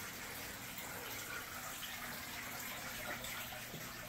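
Steady, faint trickling and bubbling of water from a home fish tank inside a house with large windows, a continuous even wash of sound with no voices.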